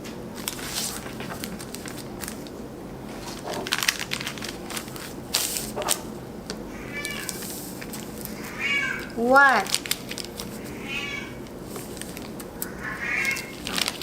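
A pet cat meows in the middle of a home sewing session, a short rising call standing out over quiet rustling and handling noise; a person briefly speaks nearby.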